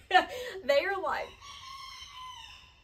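A rooster crows loudly and nearby, two rising calls, then a long drawn-out tail that fades, with chickens heard in a rural carport setting.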